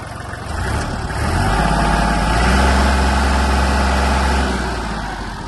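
A Kubota GL-19 Japanese mini tractor engine revs up loudly and steadily, holding a rising throaty roar before easing back toward idle, close by with no talking.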